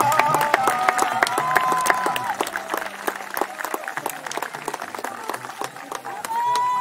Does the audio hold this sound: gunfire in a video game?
no